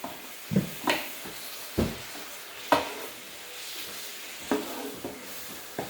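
Scattered scrapes and clacks of a utensil stirring Mongolian beef in a 14-inch Dash family-size electric skillet, with a faint sizzle underneath; irregular, close, quiet strokes with no talk.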